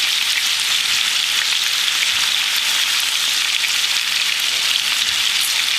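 Steak sears in a cast iron frying pan with garlic and rosemary, a loud, even hiss of sizzling fat that stays constant and close throughout without any voices.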